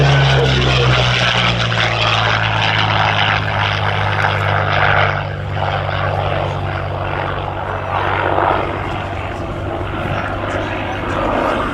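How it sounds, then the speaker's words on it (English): A Hawker Hurricane built in 1943 flies past at an airshow, its Merlin piston engine giving a loud, steady propeller drone that holds throughout with a slight swell and fade. "There goes the Hurricane, and that's the Merlin sound."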